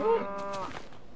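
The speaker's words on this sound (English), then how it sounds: "signing off with cows who always interrupt the outro" Cows mooing in the block-building game Minecraft, played on the Tekkit modpack: one drawn-out, harmonic moo that is loud at first, then tails off into fainter lowing, with no one talking over it.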